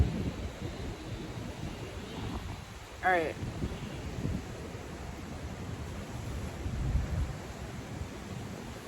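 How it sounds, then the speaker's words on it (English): Steady broadband roar of strong wind buffeting the microphone outdoors, constant throughout with brief gusty swells, while someone talks briefly over it. "it's pretty windy, and I really hope you guys can hear me"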